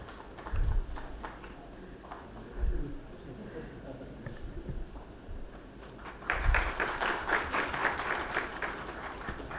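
Conference audience applauding panelists at a national law practice event, clapping swelling loud in the second half after scattered thumps and quieter clapping earlier.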